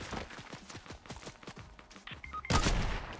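Rapid Fortnite gunfire from a game, a quick run of sharp shots in irregular bursts, then a louder crackling blast near the end.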